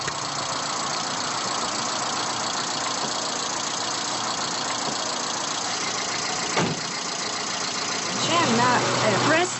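A car engine idles steadily during a stunt driving lesson, a continuous mid-pitched hum with a brief knock and a slight rise in revving near the end, as voices talk over it.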